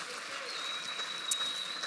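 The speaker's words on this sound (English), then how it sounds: "another round of applause." Audience at an AFL club's awards night applauding, a faint, steady patter of clapping from a large room, heard from a distance.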